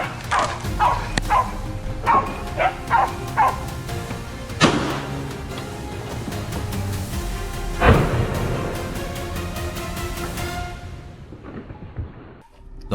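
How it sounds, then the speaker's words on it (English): Several hunting dogs bark in a forest during a wild boar hunt, a rapid run of yips early on, then scattered barks and whimpers amid rustling, moderately near with no talk. "Leaves rustled and the dogs barked nearer."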